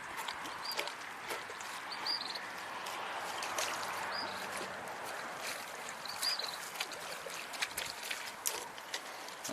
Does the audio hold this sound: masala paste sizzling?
no